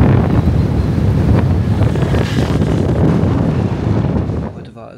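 Strong wind roaring and buffeting against the microphone, a loud continuous rumble that eases off in the last moment.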